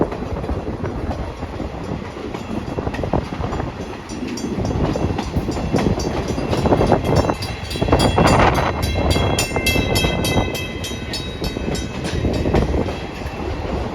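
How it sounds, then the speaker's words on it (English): A passenger train on an excursion pulled by steam locomotive 765 and engine 358 rolls along at close range, with rumbling wheels, rhythmic clickety-clack and rattling cars, plus wind buffeting the microphone. "Feel the breeze blowing as the train rolls through."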